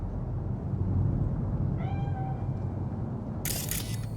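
A single cat meows once, clear and mid-distance, over a steady city ambience in Cyberpunk 2077, followed by a brief hiss of noise.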